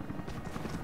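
A helicopter in the video game Rise of the Tomb Raider gives a brief, steady rotor drone with soft rhythmic thumping, moderately loud and with no talk over it.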